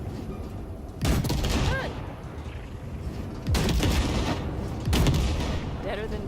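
Three heavy bursts of gunfire blast wrecks in Cyberpunk 2077, each a loud, sharp volley with a rumbling tail over a steady game ambience, with brief speech in between.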